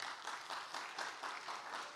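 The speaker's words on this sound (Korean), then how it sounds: "우리 형님, 우리 부모, 선조들에게 큰 박수를 보내주시기 바랍니다" An audience at a church testimony event applauds, a steady, moderately distant wash of clapping lasting the whole moment.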